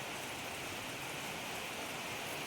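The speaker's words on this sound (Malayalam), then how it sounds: "മഴ ഇങ്ങനെ പെയ്തുകൊണ്ടേ ഇരിക്കുമോ" Steady rain hisses evenly throughout at a temple in Idukki, a soft wash of falling drops with no voices.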